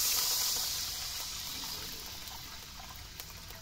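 Water pours steadily into a cooking pan while pancit noodles are being prepared, a close hissing rush that slowly softens over a few seconds, with no voices.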